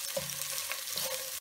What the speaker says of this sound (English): Saute the onions until they turn brown.